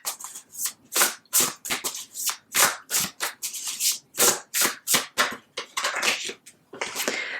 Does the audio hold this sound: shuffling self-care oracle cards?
yes